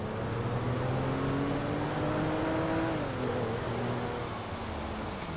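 A car drives in the GTA V video game, its engine humming steadily and loud with a droning tone that rises, then dips and shifts pitch as it keeps moving, heard alone without talk.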